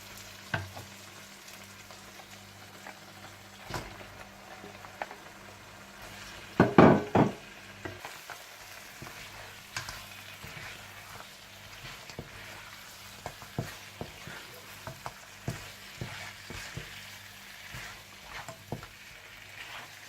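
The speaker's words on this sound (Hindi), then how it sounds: "दही मिलाने के बाद आप इसमें मटन चाप्स डालकर अच्छी तरह से भून लें।" Mutton chops frying with yogurt masala in a karahi, a continuous sizzle broken by scattered stirring clicks and a louder burst of scraping in the middle.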